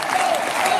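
A packed town hall crowd in Bakersfield claps loudly and continuously in a brief, dense burst of applause.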